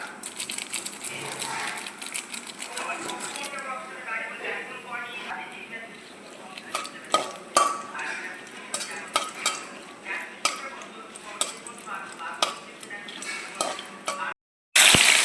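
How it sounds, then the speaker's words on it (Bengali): Chicken stew with garam masala is stirred in a pan, giving repeated metallic scrapes and clinks of a spoon over a low sizzle, with a voice talking partway through and a brief gap just before the end. "এরপর গরম মশলা এগুলো দিয়ে একটু নাড়ানাড়ি করে নেব"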